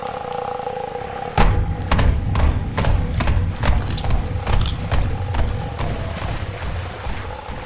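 Galloping hooves in the horror game The Classrooms, a steady run of clip-clop thuds that starts suddenly and continues throughout, fairly close over an eerie ambient drone.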